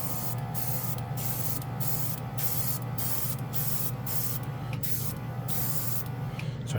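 A Casubaris portable airbrush sprays alcohol-thinned matte paint in a continuous close hiss over a steady motor drone, broken by brief regular pauses roughly every half second as the spray pulses.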